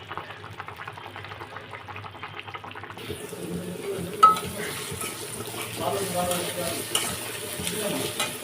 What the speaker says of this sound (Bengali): ডিমগুলো ভেজে নিয়েছি, এখন ডিমটা ভুনা করে নিব।